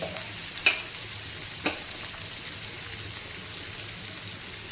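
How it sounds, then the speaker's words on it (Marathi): Chopped onions sautéing in a pan for a grated radish and radish-leaf stir-fry, a soft steady sizzle with two brief sharp clinks of a spoon against the pan. "त्याला कांद्याला पण परतून घेऊया"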